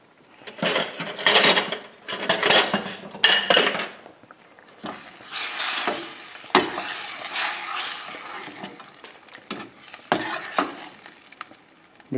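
Utensil scraping and clinking in a pan as shrimp and scallops Newburg is stirred, with irregular bursts of clattering and metallic scrapes over about twelve seconds, fairly close.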